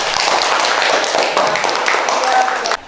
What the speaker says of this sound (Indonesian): Tepuk tangan dulu untuk adik Widya.